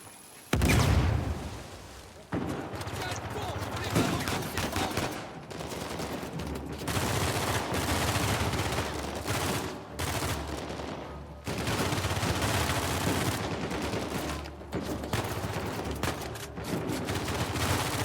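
Sustained automatic gunfire from a weapon in the video game Uncharted 4, loud rapid bursts with a few brief pauses between volleys, and a voice heard at times.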